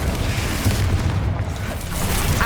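A Confringo fire spell blasts in Hogwarts Legacy, a dense sustained booming rumble with crackling bursts lasting a couple of seconds, loud and close, with no speech over it.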